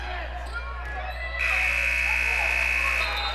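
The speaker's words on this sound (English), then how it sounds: "I think the buzzer went off before any foul." A buzzer sounds at the end of a girls' varsity high school basketball game, a sustained electronic tone lasting about a second and a half over crowd noise and commentary.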